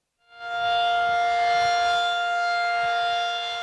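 A civil defense siren sounding a tornado warning swells up from silence into a loud, sustained, steady wail that holds, tonal and alone, with no voices.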